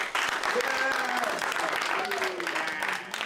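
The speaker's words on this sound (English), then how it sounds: "Round of applause for yourselves." Steady clapping from a crowd fills the whole stretch, with a voice talking over the applause.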